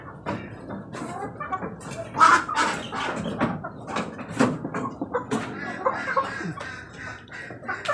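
A chicken sick with coryza clucking and calling in short, irregular bursts, heard close amid faint background noise.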